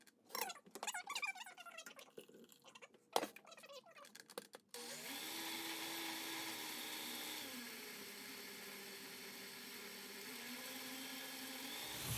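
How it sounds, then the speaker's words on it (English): A blender purees butternut squash soup, whirring steadily at full speed, a loud continuous motor drone that shifts pitch slightly, preceded by a few seconds of clattering and rattling. "stick it all in the blender"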